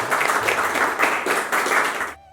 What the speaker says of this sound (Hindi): इन दीदी के लिए हम सभी लोग ताली बजाएंगे।